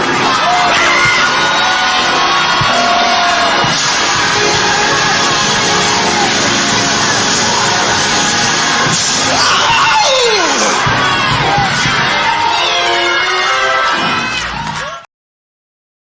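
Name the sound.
church crowd shouting and cheering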